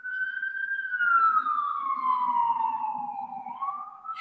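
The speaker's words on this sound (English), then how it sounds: "there's an ambulance here" An ambulance siren passes outside during an online talk: one long, moderately loud wail that slowly falls in pitch and rises again at the end, with faint low murmuring underneath.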